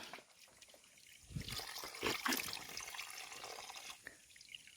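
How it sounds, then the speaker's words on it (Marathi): A freshwater spring trickles steadily near a village river, its soft, continuous flow of water quiet and somewhat distant, swelling slightly in the middle before easing off again. "हा बघा, हा झरा आहे. हा गोड पाण्याचा झरा"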